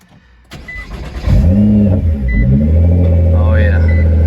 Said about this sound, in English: So let's hear that V6 twin turbo.